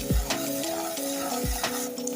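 Chopped onions, cut into roughly two-inch strips, fry in a pan for smothered liver and onion gravy. A steady close sizzle runs throughout, with a few soft thumps from stirring and no talking.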